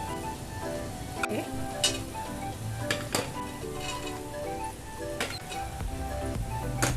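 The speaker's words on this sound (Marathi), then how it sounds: "व्यवस्थित असं तेलामध्ये आणि थोडेसे मसाले घातलेले त्यात मी आता हे भाज्या परतून घेते" Vegetables (cauliflower, potatoes and capsicum) sautéing with spices in oil for pav bhaji, a continuous sizzle with scraping and stirring clatter and sharp clicks, with music or a faint voice in the background.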